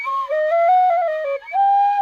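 Cheap three-dollar whistle bought in Mexico plays a short breathy, slightly out-of-tune melody of a few sliding notes, loud and close, with a brief break before the final held tone.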